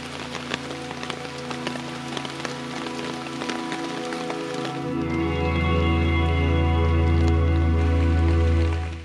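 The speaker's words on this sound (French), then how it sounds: "il pleut en continu" Steady, continuous rain on a desert island pattering on a surface, a dense hiss that swells fuller and heavier partway through, with no voices.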